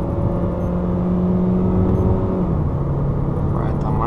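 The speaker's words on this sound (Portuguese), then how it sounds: "Terceira marcha, né? Tô afundando o pé agora." A Fiat Toro 1.8 Flex pickup accelerates under full throttle in third gear, a loud, steady engine drone with the pitch climbing and a shift near the end, heard from inside the cabin.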